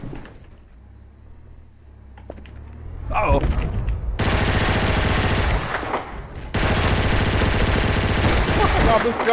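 Gunfire in Garry's Mod Trouble in Terrorist Town, a loud, sustained burst of rapid automatic shots running several seconds with a short break, preceded by quieter game noise.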